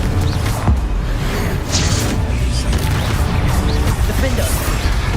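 Confringo blasting spells fired in Hogwarts Legacy combat, loud explosive bursts and crashing impacts layered over a dense, continuous wash of game sound, with a voice speaking throughout.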